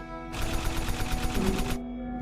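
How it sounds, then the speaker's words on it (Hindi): A gunfire sound effect for a narrated armed attack on a hotel lobby: a loud, rapid burst of automatic fire, evenly spaced shots rattling for about a second and a half before cutting off abruptly. "लॉबी में घुसते ही उन्होंने गोलाबारी शुरू कर दी।"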